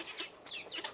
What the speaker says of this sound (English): I got a rooster out of that group